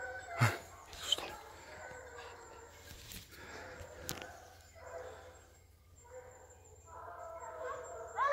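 Hunting dogs giving tongue on the trail during a driven hunt, scattered barks and yelps at a distance over quiet woodland, with low voices murmuring between them.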